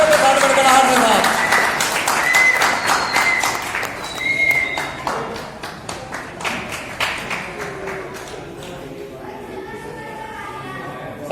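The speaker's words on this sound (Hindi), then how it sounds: "तो प्लीज कृपया करके तालियों के साथ" Audience clapping at a Rashtriya Khatik Mahasabha education event, a dense burst of applause that slowly thins into scattered claps, with someone speaking over it at the start.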